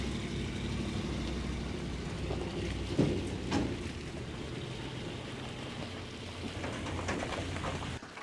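Rain falls steadily outside a barn where steers and other farm animals are kept, a constant broadband hiss with a few brief louder knocks and patters partway through, no voices.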